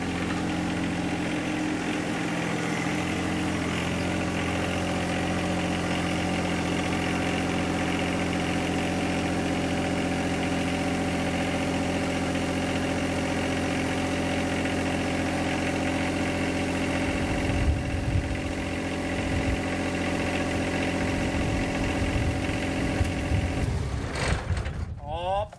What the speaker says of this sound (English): pulling the tractor up here